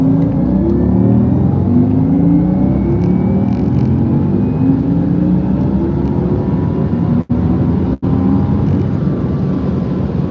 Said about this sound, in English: So this is cruising 230 kilometers an hour